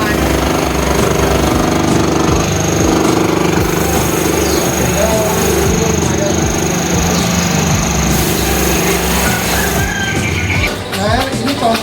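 A saw machine cuts wooden educational toy puzzle pieces in a toy workshop, giving a loud, continuous droning grind that holds steady throughout with little change.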